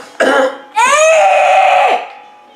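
A person coughs loudly and close by, with one short harsh cough followed by a longer, strained throat-clearing that trails off.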